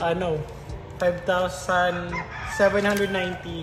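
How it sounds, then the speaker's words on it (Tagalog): A rooster crows several times in a row, loud and close, with a person talking over and between the calls. "Pasensya na kayo sa manok ng kapatid ko ha."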